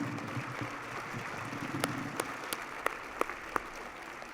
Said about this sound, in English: How about a little extra round of applause for these 6 guys?